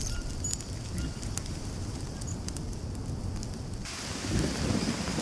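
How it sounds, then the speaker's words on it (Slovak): Rain falls in the survival game Green Hell, a steady hiss of downpour with scattered sharp drop impacts and a low rumbling undertone, swelling slightly louder toward the end with no talking. "Začalo pršať."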